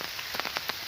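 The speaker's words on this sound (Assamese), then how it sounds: "বহুত বৰষুণ দি আছে" Heavy rain pours steadily onto a surface in a brief, continuous wash of hiss with a few louder drop splatters, no voices.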